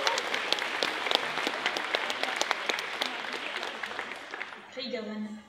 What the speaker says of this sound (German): Also, einen kräftigen Applaus für Morgiana aus Magi, Labyrinth of Magic.